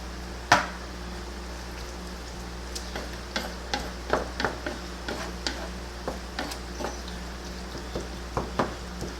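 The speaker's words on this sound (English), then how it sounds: "Just mix it all up." Spoon stirring enchilada filling mixed with sauce, a series of soft close scrapes and clicks in an irregular rhythm with a faint sizzle underneath.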